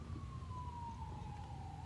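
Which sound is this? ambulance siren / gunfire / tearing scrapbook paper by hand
ambulance siren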